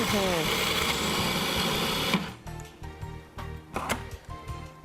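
A food processor grinds cookies with melted butter for a pumpkin cheesecake crust, a loud dense whirring drone that cuts off abruptly, followed by clattering lid and container knocks as a person talks.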